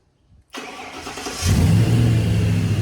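An old dirt track Dodge Charger race car, retired for decades, cranks and fires up, then settles into a loud, steady running rumble close by with no talking.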